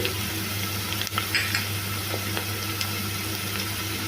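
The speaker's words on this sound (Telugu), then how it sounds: "దీంట్లో సన్నగా కట్ చేసిన ఉల్లిపాయ ముక్కలు వేసుకోవాలి ఇవి దోరగా ఫ్రై అయిపోవాలి" Thinly sliced onions fry in hot oil for a country chicken curry, giving a steady, close sizzling hiss with a few faint stirring scrapes and no voices.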